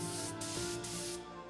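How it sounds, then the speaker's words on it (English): White primer sprayed from an aerosol or spray gun onto an improvised test panel ahead of yellow paint, a steady close hiss with brief pauses, no voices. "it's important to spray a white primer first"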